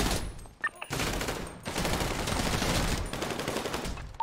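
Rapid automatic gunfire in an online multiplayer shooter video game, dense and loud bursts running almost continuously with brief gaps.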